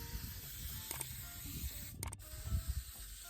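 Plasti Dip is sprayed from an aerosol can onto a cosplay belt in short hissing bursts, close by, over low clattering handling noise.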